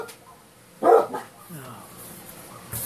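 Dog barks in a short burst near the middle, a couple of loud yelps close by, set against a quiet indoor background with faint voice traces.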